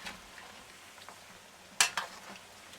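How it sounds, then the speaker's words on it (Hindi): Potatoes for biryani frying in a pan, a low steady sizzle with a couple of sharp clinks of a utensil against the pan near the end. "इसको आपने फ्राई करनी है अच्छी तरह से"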